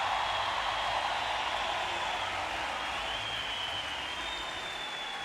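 A large crowd cheers and applauds loudly and steadily throughout, a broad roar filling an indoor pool arena as a Mexican swimmer completes his freestyle relay leg at the Rio 2016 Paralympic Games.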